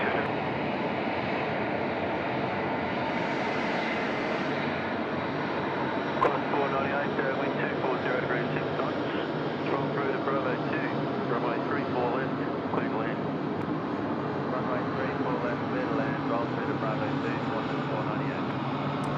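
A Boeing 737-400 freighter at Sydney Airport at night gives a steady, broad jet-engine roar heard at a distance, continuous for the whole stretch with no clear peaks.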